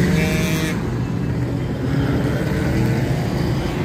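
Cars at an outdoor car show in Wisconsin Dells drive past with a steady low engine rumble and road noise, fairly close and continuous.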